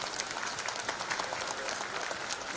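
Applause at a felicitation ceremony for former Chief Justices and judges, a steady dense patter of many hands clapping throughout, fairly faint and even with no voices standing out.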